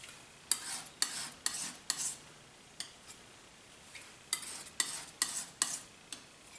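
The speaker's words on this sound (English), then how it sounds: "I'm going to make a nice clean mixing area with my razor blade knife" A razor blade knife scrapes a paint palette clean to make a mixing area while painting a Bighorn Saddle landscape. Short, crisp rasping strokes come close up in two quick bursts of several swipes each, with brief pauses between them.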